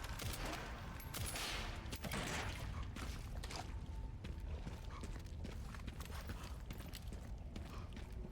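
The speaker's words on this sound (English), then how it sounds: "We're just going to shoot as much as we can here." Gunfire from Resident Evil Requiem aimed at plant buds at the bottom of a deep pit: dense, rapid bursts of shots rattling almost continuously, loud and busy throughout.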